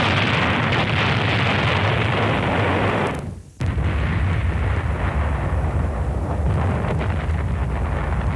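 Artillery fire and explosions from the Korean War rumble in a dense, continuous barrage, cutting off abruptly for a moment before the heavy booming resumes just as loud.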